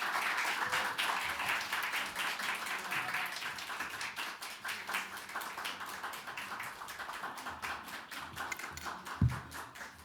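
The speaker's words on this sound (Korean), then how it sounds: "목사님 나오실 때 큰 박수로 환영해 주시길 바랍니다" A church congregation at a New Year revival service applauds to welcome the pastor, producing dense, steady clapping that fills the whole stretch, with a single low thump near the end.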